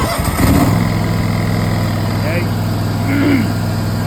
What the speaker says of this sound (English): if I connect it like this, it'll let the mower start.